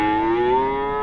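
A single long, steady low moo from cattle at a busy weekly cattle market in Namakkal, close and clear with no talk over it.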